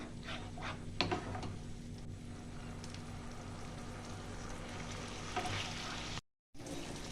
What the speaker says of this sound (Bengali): এবার আমার জলটা ফুটে গেছে।